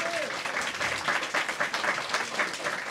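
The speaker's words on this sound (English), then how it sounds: "So the applause is for Steve for preparing this." Audience at a public meeting clapping, a moderate patter of hands with slight pulsing, fairly close, while a voice is briefly audible beneath.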